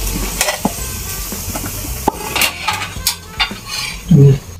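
Fried pork is lifted from a pan, with scraping and clinking of a utensil on metal in short irregular strokes, light background sizzle and a louder thump near the end.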